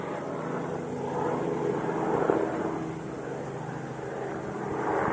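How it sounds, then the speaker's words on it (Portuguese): A helicopter passes overhead near a construction site, a broad, steady, distant-sounding rotor drone that swells slightly in the middle and stays continuous, with no talking. "E o helicóptero inventou de passar agora."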